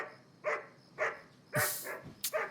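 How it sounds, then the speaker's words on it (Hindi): A pet dog barks at night inside a family home, giving a short run of close barks followed by a sharper, higher yip near the end. "अरे क्यों भौंक रहा है?"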